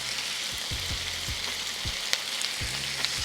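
Tomato paste frying with browned vegetables in a pot for braised beef short ribs, a steady broadband sizzle with soft periodic thumps of stirring throughout, close and moderately loud, no voices.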